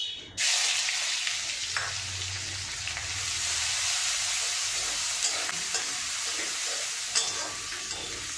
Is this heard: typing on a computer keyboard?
no